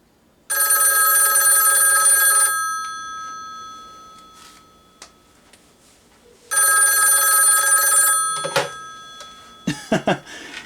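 A vintage 554 rotary dial telephone's bell rings loudly and up close in two long bursts of about two seconds each, separated by silence, followed by clattering handling sounds as the handset is lifted.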